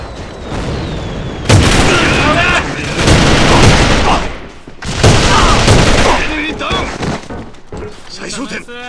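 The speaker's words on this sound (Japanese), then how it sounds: "手榴弾投擲。" A grenade explodes in the shooter AVA during a competitive match: heavy booms and bursts of gunfire come in loud waves, with a voice speaking over the chaotic battle noise.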